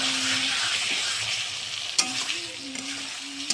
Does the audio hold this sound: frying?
yes